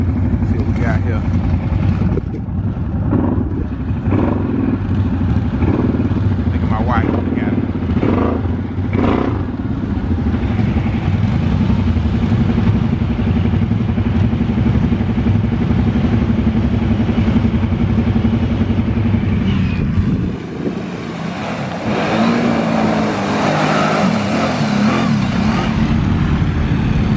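A four-wheel drive vehicle pushes through deep mud, its engine droning loudly and steadily up close with rising revs near the end, while people talk over it.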